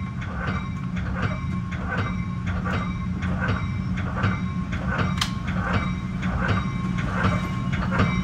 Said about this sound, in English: Metra Burlington Northern Santa Fe line, train 1276 Aurora to Chicago, arriving on time